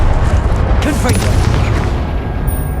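A Confringo blasting spell in Hogwarts Legacy erupts as a loud, close boom with crackling bursts. Sharper hits land near the middle, and game combat sounds and voices continue around them.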